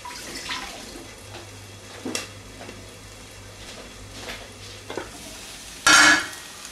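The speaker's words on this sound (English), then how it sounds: "Stir it now and again." Black-eyed beans get stirred in a pan on low heat, with soft intermittent scrapes and gentle sizzling, capped by a louder burst of clattering near the end.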